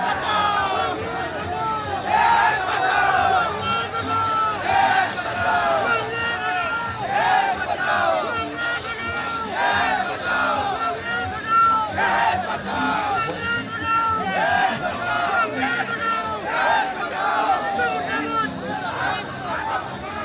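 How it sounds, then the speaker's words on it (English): A massive crowd roars and chants at an election road show in Karimganj, Assam. The dense, loud cheering and shouting runs continuously for the whole stretch, with overlapping voices surging and ebbing but never falling silent. "As usual, massive crowd there. Let's listen into some ambience."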